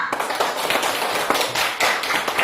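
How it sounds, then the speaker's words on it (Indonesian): A school class clapping hands together in a classroom, a short burst of uneven, fairly close claps from a small group with no talk. "Tepuk tangan untuk kita semua"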